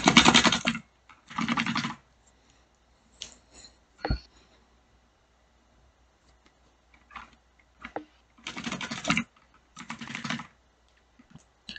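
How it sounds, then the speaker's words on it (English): Computer keyboard typing during a speedrun of The Witness, loud clattering bursts of rapid keystrokes separated by quiet gaps, close to the microphone with a few isolated single key clicks between. "as you can hear by my keyboard smacking"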